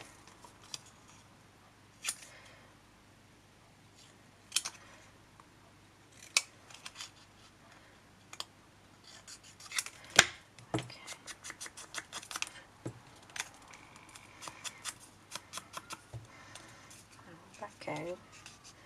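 Scissors snip a small paper tag with a series of short, close cuts, sparse at first and quickening into clustered snips, with soft handling sounds in between.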